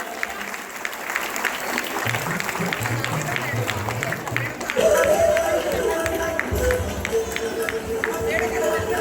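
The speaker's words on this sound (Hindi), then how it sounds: "सभी जोरदार तालियां बजा दें।" Audience applause at a school annual function for a guest's welcome, a steady wash of clapping that swells midway, with a voice and crowd chatter underneath.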